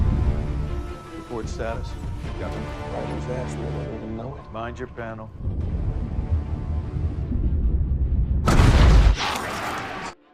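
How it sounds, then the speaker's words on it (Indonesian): Aboard a Russian submarine in a film, a single loud explosion booms out near the end, following music and a narrating voice. "tiba-tiba terjadi ledakan pada kapal Connect"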